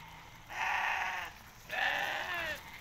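Two long bleats from sheep in a flock of 38 rams of the Timahdite breed, each call lasting about a second, moderately distant with a faint background hiss and no talking.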